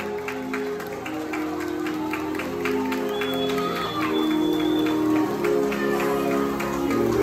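An audience claps along to waltz music in a steady rhythm of sharp hand claps over sustained musical tones, with cheering and shouts mixed in.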